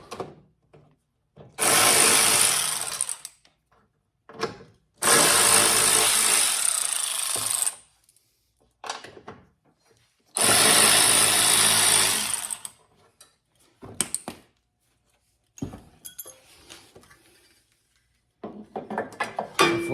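Bolts come off a Craftsman T110 lawn tractor with a power tool in three loud, sustained high-pitched whirring bursts of a few seconds each, separated by quiet gaps and small clicks and clanks of handling.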